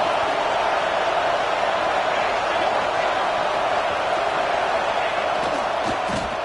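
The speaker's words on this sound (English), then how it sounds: "Listen to the crowd energy here in the early going." A college football stadium crowd at a Florida game roars steadily and densely throughout, a loud, unbroken wash of many voices with no single speaker standing out.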